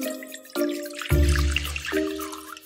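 Water poured into a bowl for homemade borax slime, a few close splashing pours and drips, the middle pour fuller and heavier, with no talking.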